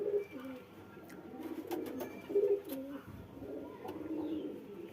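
Domestic pigeons kept in a home loft coo in low, rolling phrases that repeat through the clip, with steady moderate level and a few faint chirps mixed in.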